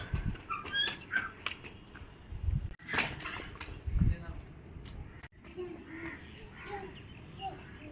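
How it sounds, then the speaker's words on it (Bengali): Birds, likely crows, call intermittently outdoors in a strong wind, with scattered caws in the distance mixed with gusts, handling noise and people talking nearby. "পাখিও ডাকছে।"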